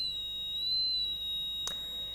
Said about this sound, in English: the pitch of the buzzer is actually changing as we change the potentiometer